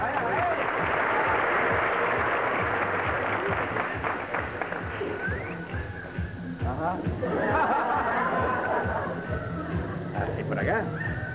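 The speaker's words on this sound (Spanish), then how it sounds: "¡Aplauso para él!" Studio audience at a televised magic show applauding and cheering, crowd clapping mixed with laughter and chatter, with a host talking loudly over it.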